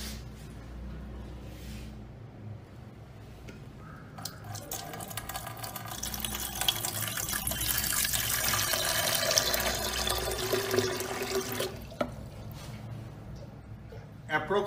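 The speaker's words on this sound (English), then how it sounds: "Now we will fill water. We have to fill water around this bomb till it touches the surface of the bomb." Distilled water is poured slowly into the vessel around a bomb calorimeter, a steady rushing, splashing fill that grows louder and denser toward the middle, then eases off before a few clinks at the end.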